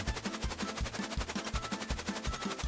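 A cartoon magnetic gun fires in a rapid, even burst of repeated mechanical pulses, like an automatic weapon, steady and close for a few seconds.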